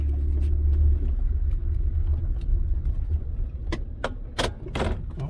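A 2007 Honda Ridgeline at low speed, turning under load, with a steady low moaning rumble from the drivetrain beneath cabin noise, plus a few sharp knocks or clicks near the end and no talk.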